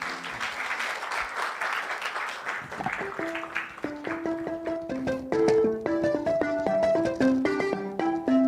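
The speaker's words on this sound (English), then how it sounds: "Please welcome Nana Asase with a round of applause." Audience applause welcoming a poet at a national championship launch event, a dense burst of clapping that fades within a few seconds as sustained musical tones rise and take over.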